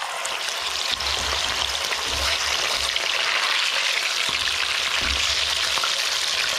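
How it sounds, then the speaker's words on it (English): Tuna pieces fry in hot oil in a pot, giving a steady, loud, continuous sizzle and crackle with faint low thumps from handling, close up and without talk. "So I fry them, just put a little touch in the oil, and then I flip it over."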